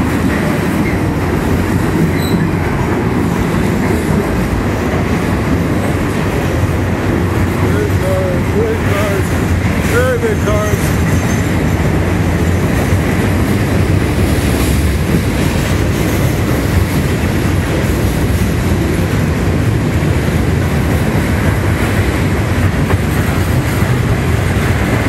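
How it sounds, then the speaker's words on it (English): A long train rumbles past continuously and loudly, heard from under a bridge in downtown Stuart, Florida, with clattering wheels and faint squeals mixed into the steady roar. "Long train."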